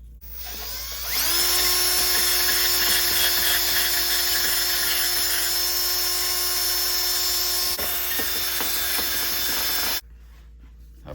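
A power tool removes old gasket material from a Honda Z50 engine being fitted with an 88cc big bore kit, a loud, steady high-pitched whine with a grinding edge that runs about nine seconds, then stops.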